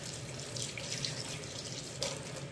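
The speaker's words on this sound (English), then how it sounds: "Let's get some water." Tap water runs steadily into a kitchen sink for rinsing pork ribs, a continuous close splashing hiss with no pauses.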